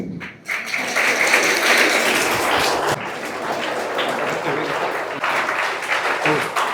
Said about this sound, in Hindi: जोरदार तालियां राहिल सोलकर के लिए।